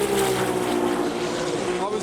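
A Japanese car with an RB engine passing by, a loud, sustained droning engine note with a steady harmonic whine, heard close and continuous throughout.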